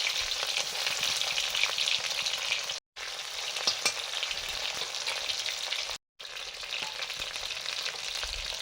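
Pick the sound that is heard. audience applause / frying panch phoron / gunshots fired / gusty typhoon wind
frying panch phoron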